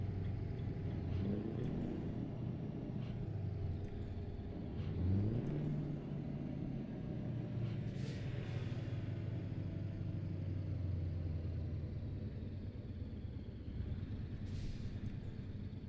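A truck engine in a truck driving game drones as a low steady rumble with a faint whine rising and falling, continuous and moderately quiet, with occasional brief hissing bursts like air brakes.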